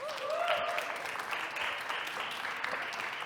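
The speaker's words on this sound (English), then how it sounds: "Round of applause." An audience at a Ukrainian startup showcase during a tech conference claps steadily for an incoming speaker, a dense continuous round of applause with a brief whoop near the start.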